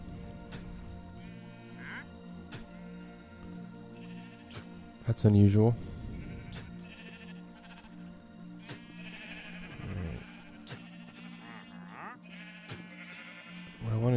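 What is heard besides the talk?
sheep bleating in a video game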